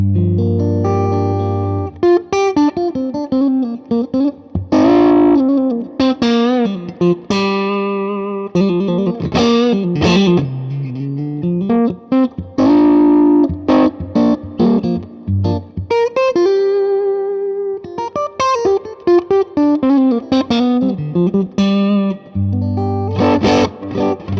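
Electric guitar through a 1981 Inventions LVL overdrive pedal plays a busy, sustained riff with a thick, slightly gritty yet sweet tone and some ambience, continuous and loud throughout.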